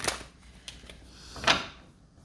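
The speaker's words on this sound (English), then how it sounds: "Lots of shuffling." Tarot cards being shuffled by hand: soft, close, fluttering riffles and light slaps come in a few separate bursts, with no voice.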